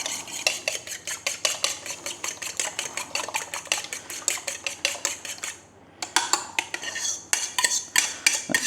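A utensil beats a couple of eggs into cornbread batter in a bowl, fast rhythmic scraping and clinking strokes close by, one brief pause near the end before the quick stirring resumes.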